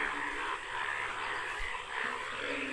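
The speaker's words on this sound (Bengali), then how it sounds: "যে শব্দটা শোনা যাচ্ছে এটা আসলে ব্যাঙের ডাকার শব্দ।" Frogs croak on a hillside road in the rainy season on the way to HamHam waterfall, a faint, steady chorus of repeated calls heard from a distance without talk.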